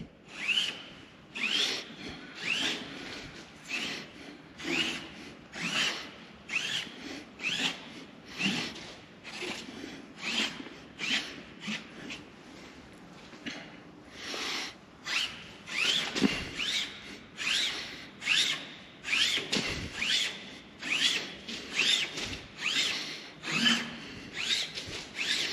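Rhythmic back-and-forth strokes of sandpaper rubbing over the primed tail of a Sopwith Camel model, a steady rasping scrape repeating dozens of times, close and alone.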